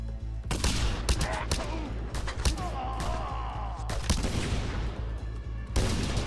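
Rapid bursts of gunfire in the Just Cause 2 video game, repeated sharp shots and volleys at close range, loud and steady across the clip.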